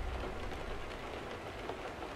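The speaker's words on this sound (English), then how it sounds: "It's still raining, Corsi." Steady rain patters continuously in American Truck Simulator, a dense hiss of drops on surfaces with no voices over it.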